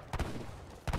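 A heavy cannon in a strategy video game fires in two short booming bursts, each a doubled thud separated by a moment of quieter background noise.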